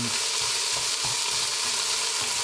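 Onion and celery sizzling steadily in about three tablespoons of olive oil in a pan, a constant close, hissing fry with faint stirring clicks, no voices.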